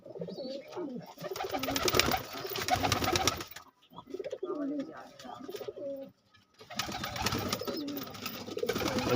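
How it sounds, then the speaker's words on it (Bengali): Pigeons kept at a seller's loft coo in repeated soft throaty bursts, close and fairly loud, with a short pause midway. "পায়রা দেখে নিন। খুব ভালো ভালো পায়রা আছে।"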